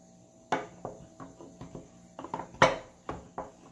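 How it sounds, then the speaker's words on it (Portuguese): Papaya leaves pounded in a small pestle, a series of irregular dull thuds close up, about a dozen strikes with quiet gaps between. "Agora eu vou machucar aqui no meu pilãozinho."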